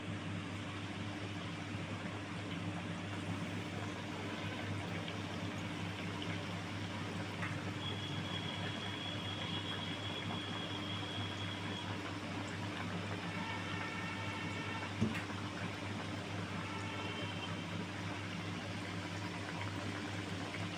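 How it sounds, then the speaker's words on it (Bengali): Thekua dough pieces, a Bihari Chhath Puja sweet, deep-frying in hot oil, giving a steady broadband sizzle and bubbling throughout, with a strong low hum underneath and a single faint clink near the end. "তো এইগুলো লাল লাল করে ভেজে নেবো একদম মুচমুচে করে"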